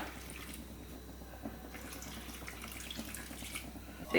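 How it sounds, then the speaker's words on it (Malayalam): Water running and splashing into a clay pot nearby, a steady soft trickle with faint drips; no one speaks. "ഇതിലേക്ക് ഞാൻ കുറച്ച് വെള്ളം ഒഴിക്കുന്നുണ്ട്."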